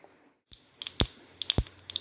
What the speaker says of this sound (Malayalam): കടുക് പൊട്ടി, അതിനുശേഷം പച്ചമുളക്,